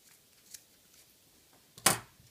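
Scissors snip through scrap paracord while a fishtail bracelet is being finished; one short, sharp cut lands close by near the end, after near-silence broken only by a faint tick.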